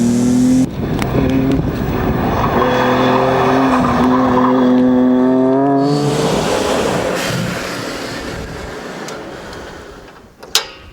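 Turbocharged engine of a Nissan Skyline GT-R R33 race car, loud and close, rising in pitch through a sustained rev for several seconds before easing off, ending with a brief sharp burst.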